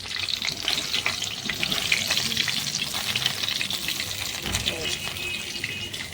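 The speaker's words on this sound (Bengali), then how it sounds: "এই দিয়ে দিচ্ছি মাছের মাথাগুলো সুন্দর করে লাল লাল করে ভেজে" Fried fish heads go into a pan of chickpea and taro curry, setting off a loud, bubbling sizzle with stirring scrapes close by, and a voice talks over the cooking.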